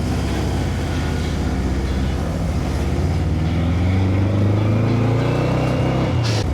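A sand rail dune buggy's engine revs up in second gear. Its loud, close drone climbs steadily in pitch as it accelerates, then cuts off abruptly at the end.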